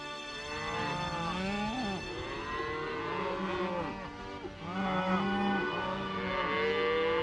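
Many cows moo at once, long overlapping calls from a herd at varying distances, continuous and loud with no talking.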